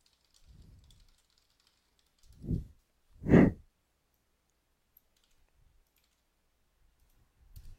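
A few soft, isolated clicks from a computer mouse, spaced apart in an otherwise quiet room, the last one sharper and slightly louder than the others.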